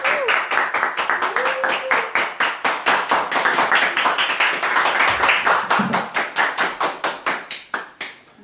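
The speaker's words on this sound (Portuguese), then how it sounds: "Uma salva de palmas para as mamães." A church congregation claps for the mothers at a service, loud, steady rhythmic handclaps that run throughout, with a brief voice near the start and a low thump midway.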